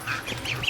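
A free-range duck flock outdoors gives a few brief nasal quacks, moderately close, in quick succession.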